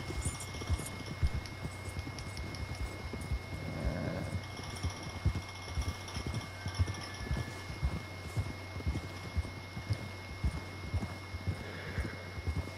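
Horse hooves clip-clop in a steady, even rhythm as a white horse is ridden in the video game Red Dead Redemption 2, with a constant low hum and a faint continuous tone in the background.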